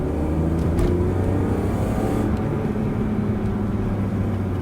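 A 1996 BMW 323i E36 pulls hard under acceleration, its engine drone loud and steady with a rising tone throughout, heard from inside the car.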